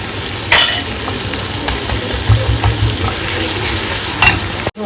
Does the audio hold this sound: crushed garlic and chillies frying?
yes